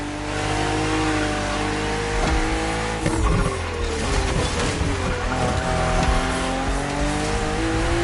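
Racing car engine in a video game on a narrow track full of sharp bends, revving loudly and steadily throughout with shifting engine pitch, tire squeals and skids, no talking.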